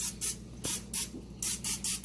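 Olive oil spritzed from a spray bottle onto whole raw chickens before smoking, five or six short quiet hissing bursts in close succession with brief gaps, no talk.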